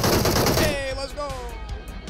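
Gunfire in a shooter video game, a loud close burst of rapid shots at the start that decays into echoing tails and a few scattered later shots, with players' voices mixed in.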